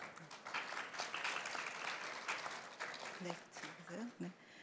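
Forum audience clapping as the second session of a gender equality forum begins, a moderate wash of applause that thins out toward the end while a voice speaks over it, fairly quiet overall.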